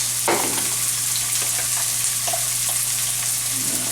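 Onions sizzle in a hot pan for seafood pasta, a loud close, even hiss with occasional brief crackles and a utensil clink near the start.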